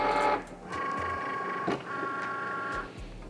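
A Cricut cutting machine draws in a cutting mat as it loads, giving short whirring motor runs separated by brief pauses, close and moderately loud with no talk.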